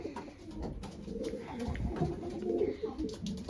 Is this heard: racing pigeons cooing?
yes